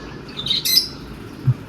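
Pet birds give a few short, bright chirps and tweets close by in a quiet home, with brief gaps between calls.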